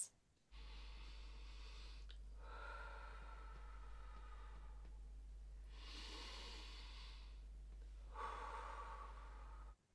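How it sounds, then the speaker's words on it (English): Slow meditative breathing, with long soft inhales and exhales in distinct close breaths separated by quiet pauses over a steady low hum. "take a couple of breaths. Say breathe in for 4 and out for 6"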